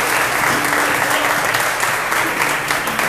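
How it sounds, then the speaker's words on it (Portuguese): Church congregation clapping hard and fast together, a dense, loud, continuous wash of applause that fills the whole stretch, with faint voices mixed underneath. "uma salva de palmas bem forte"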